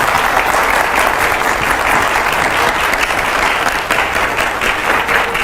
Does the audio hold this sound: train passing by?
no